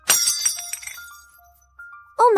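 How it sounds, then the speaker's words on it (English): A priceless gem slammed onto a marble ballroom floor bursts into a bright, crackling shatter with scattered tinkling fragments, followed by a lingering ringing tone and then a sharp, loud stinger. "The ear-piercing sound of shattering echoed through the ballroom."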